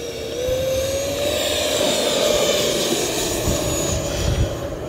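An electric RC F-16 Thunderbirds jet with a 70mm EDF on 6S power flies past outdoors over a grassy field, a steady loud whining rush whose pitch rises early and holds, with no talking.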